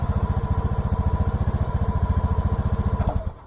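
A small engine, likely a manually started unit, runs with a steady rapid putter close by for about three seconds, then cuts off abruptly near the end; no one speaks.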